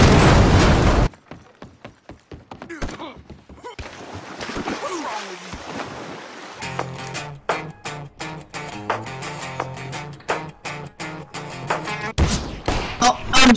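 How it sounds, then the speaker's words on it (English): A grenade goes off in a video game with a loud burst, followed by scattered booms, pops and splashy crackles over several seconds, with voices talking through the din. "Watch out, grenade!"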